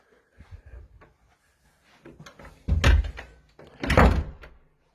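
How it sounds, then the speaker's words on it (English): A door is pushed shut in a vintage shop at night, preceded by soft shuffling and handling noises, then two solid, close thuds as it closes and settles, with no voices. "And then we're going to close the door"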